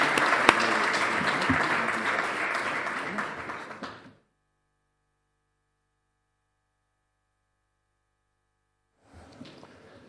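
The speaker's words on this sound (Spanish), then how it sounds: "todos le rindamos un fuerte aplauso" Audience applause for an award presentation at an opening session in Madrid, steady dense clapping for about four seconds that stops abruptly into silence, then resumes faintly near the end.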